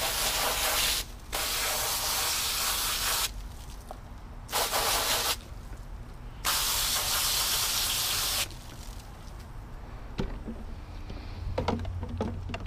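Water spraying in bursts from a hose onto the filter cartridges of a Maytronics Dolphin S300i pool robot, loud and close, several long hissing sprays separated by short pauses, no talking.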